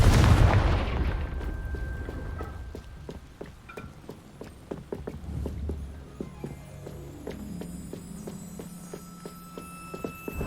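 A Confringo spell explodes near a castle gatehouse in the video game Hogwarts Legacy: a loud, deep blast opens the moment and rumbles away, followed by lighter footstep-like taps and faint game sounds.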